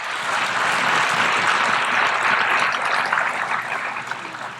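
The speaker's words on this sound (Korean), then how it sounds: "사람들은 계속 박수를 쳤습니다" Delegates at the UN General Assembly applaud during a Biden speech, a broad, steady wash of clapping from a large hall that swells slightly and then eases toward the end.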